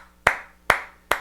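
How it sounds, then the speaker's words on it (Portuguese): Three single sharp handclaps, spaced about half a second apart, sounding close and isolated against a quiet background hum rather than a full crowd. "É para aplaudir de pé."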